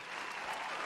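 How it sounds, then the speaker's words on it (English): A short burst of steady applause from a crowd, even and continuous throughout, moderately faint and heard alone. "Here comes the applause for your Deesk family Deesk jokes."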